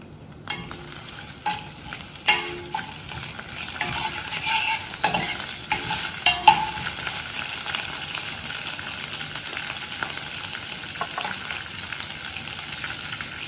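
Raw mango kadhi being stirred in a pan after curry leaves and slit chillies go in, with a steady sizzling frying hiss and several sharp scraping clicks of the spoon early on, close by with no talking.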